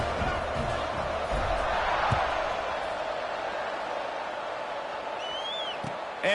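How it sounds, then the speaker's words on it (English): Stadium crowd at a Louisiana Tech vs Southern Mississippi college football rivalry game, buzzing just after a score before the kickoff, a steady dense roar of many voices with a few scattered shouts and whistles rising above it. "this crowd is buzzing after that last score"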